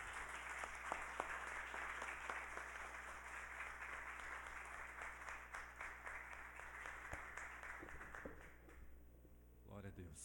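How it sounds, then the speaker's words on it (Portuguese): A church congregation applauds in a sustained, dense wash of clapping over a low mains hum, fading near the end as the clapping breaks up. "Você pode aplaudir o Senhor, aplauda."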